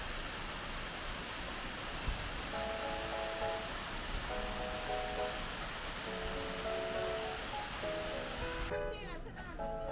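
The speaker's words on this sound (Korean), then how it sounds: "법주사 가는 길목에 인공 폭포이지만 그런대로 운치가 있습니다." An artificial waterfall beside the road to Beopjusa temple at Songnisan gives a steady, broad rushing wash of falling water, heard throughout at moderate level while soft tonal music plays over it.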